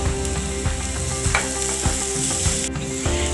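Onion, ginger and crushed garlic frying in a pan for potato masala bonda, a steady close sizzle with rhythmic scraping and stirring clicks throughout and no voices.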